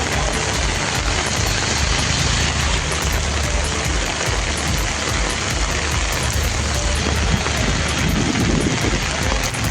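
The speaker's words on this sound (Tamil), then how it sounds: "கிருஷ்ணகிரி மற்றும் அதன் சுற்றுவட்டார பகுதிகளில் 1 மணி நேரம் கனமழை வெளுத்து கட்டியது." Heavy downpour over Krishnagiri, Tamil Nadu, a dense, unbroken hiss of rain on surfaces, loud and steady throughout, with some wind noise on the microphone.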